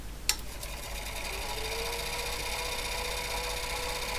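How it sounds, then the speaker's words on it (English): A small motor in an HP 9120A printer under repair hums steadily after a brief click, a sustained whirring drone with faint mechanical buzz, running evenly and fairly quietly throughout. "the motor should start up"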